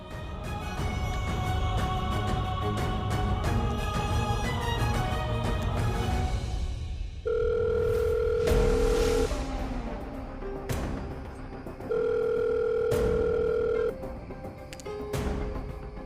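An unanswered phone call in a TV serial gives a repeated ringback tone: two long steady beeps with a pause between them, following a stretch of music and sounding over faint background music.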